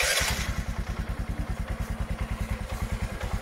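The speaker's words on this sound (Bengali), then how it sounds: "তো আমরা বাইকটিকে স্টার্ট দেব।" A Bajaj Discover 100 motorcycle, freshly rebuilt with new engine bearings, starts with a short burst and settles straight into a quick, even single-cylinder thumping heard up close.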